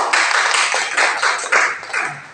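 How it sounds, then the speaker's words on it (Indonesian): An audience of fishermen at a coordination meeting in Lamongan bursts into applause, a dense, fairly loud round of clapping lasting a couple of seconds with no talk over it. "tepuk tangan dulu"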